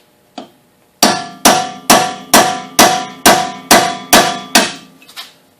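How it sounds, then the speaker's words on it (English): Hammer blows on a chisel against a 35mm axle nut during a ball joint replacement on a 2002-2008 Trailblazer-type SUV: one light tap, then eight loud, evenly spaced metallic strikes close by, with no voices. "Yeah, try to open this up with a chisel."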